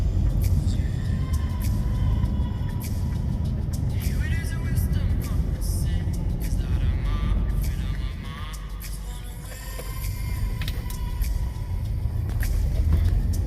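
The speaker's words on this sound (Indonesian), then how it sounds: "Ternyata suasana lalu lintasnya malam hari ini agak macet karena bertepatan dengan sebagian orang pulang kantor di hari Jumat, sehingga macet." Congested Friday-evening road traffic in Jakarta near a large roundabout with fountains: a continuous rumble of cars and buses, engines passing close, with a brief dip in the middle.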